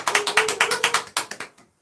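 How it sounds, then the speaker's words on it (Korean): An audience at a live business lecture event claps in a brief, scattered round of applause, a dozen or so distinct claps that thin out and stop after under two seconds. "박수 청해 듣겠습니다. 박수."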